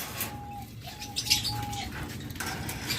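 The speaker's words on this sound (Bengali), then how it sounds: "আপনাদের যে অস্ট্রেলিয়ান ঘুঘু পাখিগুলো দেখাচ্ছি" Australian doves at a bird farm give a few soft, steady cooing notes, close by, over a constant background hum and mixed bird noise, with no talking.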